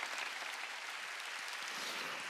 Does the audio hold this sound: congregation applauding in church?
yes